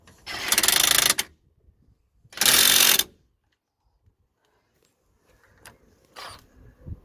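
Power tool tightening brake caliper bolts on a 2019 Ford Transit van during a front brake pad change: two loud, sustained bursts of about a second each, followed by fainter brief mechanical clicks and rattles.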